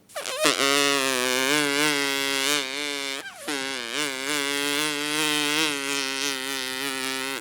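A school student performing mimicry at a school program in Chelannur imitates a fly's buzzing: a sustained, nasal drone that briefly breaks and restarts, steady and close.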